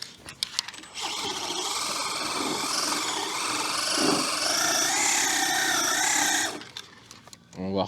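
A Traxxas Drag Slash 3S RC car spins its tyres in place to heat them, giving a loud, sustained high-pitched electric motor whine that holds for several seconds before cutting off, with someone talking briefly before and after.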